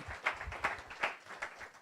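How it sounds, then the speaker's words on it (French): A church congregation claps together during a Sunday service, the soft clapping coming in a steady rhythm of bursts about every half second. "Vous pouvez applaudir le Seigneur."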